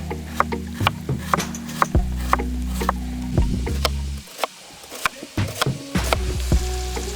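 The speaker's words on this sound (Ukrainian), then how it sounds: "Тим часом нарізаємо півкільцями дві цибулини." A knife taps sharply against a board in quick, irregular chops, slicing onions into half-rings close by, with a low hum underneath that drops out partway.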